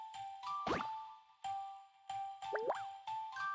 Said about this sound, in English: Oops, that's my phone.